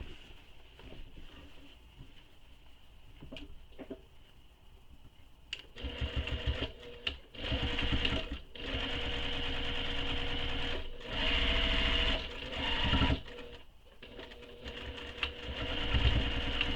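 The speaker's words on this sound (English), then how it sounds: "So I'm going to go ahead and just sew up the center." A sewing machine stitches down the centre of a slip pocket on a tote bag in several close bursts of rapid whirring separated by brief pauses and handling clicks, with a faint quiet stretch at the start.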